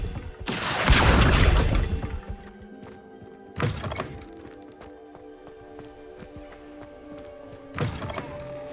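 A spell effect from the Hogwarts Legacy video game: a loud whooshing burst at the start, followed by two shorter magical surges over a low ambient hum.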